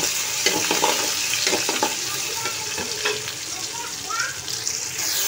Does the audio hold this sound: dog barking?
no